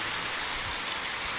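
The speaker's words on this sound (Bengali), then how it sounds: "প্রচুর পরিমাণে বৃষ্টি হচ্ছে।" A downpour of heavy rain heard from inside a home, an unbroken, even wash of patter and hiss that stays steady and close for the whole moment.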